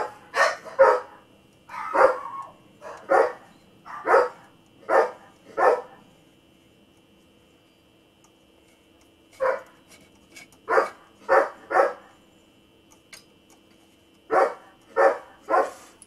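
Dogs barking in short bursts, a quick cluster of sharp barks followed by a pause and then further groups of barks, fairly close and loud against a quiet background.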